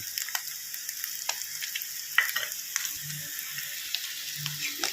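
Boiled egg yolk pieces frying in a pan for an egg and carrot curry, a steady close sizzle with small crackles and occasional soft stirring taps, no voices.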